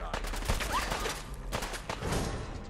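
Rapid gunfire from a submachine gun in the video game Fallout 4, dense bursts of shots sounding loud and continuous throughout, with no talking over them.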